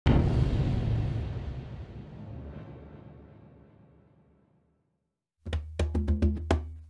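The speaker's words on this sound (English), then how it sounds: "I decided I would layer together 3 kick drums." Three layered kick drums, one heavily distorted, hit as a single booming impact that rolls into a long, reverberant rumble and fades out, recreating the Elden Ring death sound. After a short silence, a quick run of punchy hits follows.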